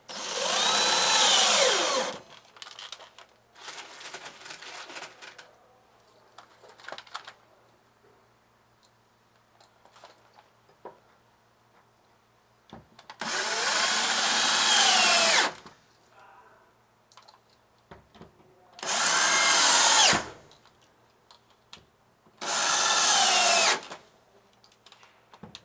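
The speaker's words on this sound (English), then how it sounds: "Use a 3/4 inch sheet metal screw and fasten it right to the wall." Screw gun driving a 3/4 inch sheet metal screw into a wall while building a mini theater booth, heard as four loud, separate bursts of whirring, each lasting a couple of seconds, with quiet handling noise between them.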